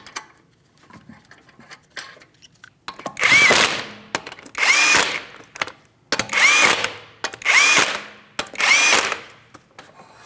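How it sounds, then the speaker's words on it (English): An impact wrench drives 19mm lug nuts onto the front wheel of a Chevrolet Malibu in five loud, evenly spaced bursts of whirring and hammering, with short quiet pauses between them. "go ahead and start on all 5 of your 19mm lug nuts"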